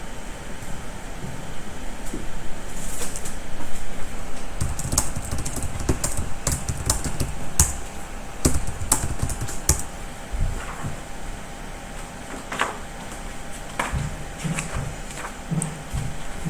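Computer keyboard typing in irregular bursts of close, light clicks over a steady room hum, with no talking.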